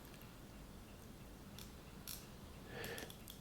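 Turning the bezel on an Omega Seamaster GMT dive watch produces sparse, crisp little clicks from its spring mechanism, quiet and close, with a short run of quicker clicks near the end.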